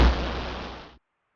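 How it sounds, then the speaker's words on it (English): An explosion attack in the Old School RuneScape Colosseum game: a single loud burst that decays as a rumbling hiss for about a second, then cuts off to silence. "Now we have a bigger explosion"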